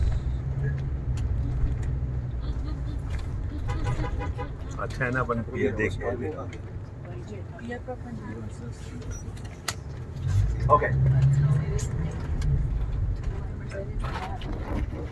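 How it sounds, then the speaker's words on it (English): Tour bus engine rumbling steadily on a drive past the Santa Monica pier in Los Angeles, a continuous low road drone with passing traffic, while a driver talks over it. "I can't drive the bus on the pier, but I'm going to go around and get really close"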